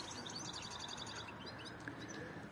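Pigeons kept as Turkish play birds chirping and calling steadily at close range, a dense busy flutter of small bird sounds with no talking.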